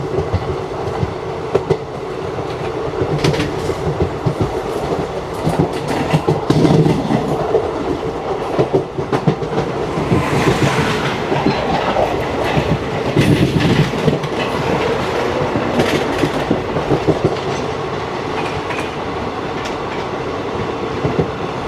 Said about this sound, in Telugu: మన ఎదురుగా చూసుకుంటే హరిప్రియ ఎక్స్ప్రెస్ అయితే వస్తుంది తిరుపతి నుంచి కొల్హాపూర్